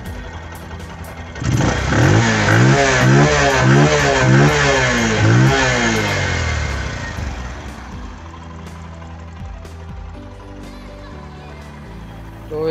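Close Bajaj CT110X BS6 motorcycle engine, running then revved in repeated rising and falling bursts before easing back to a smooth idle; a voice speaks briefly over it.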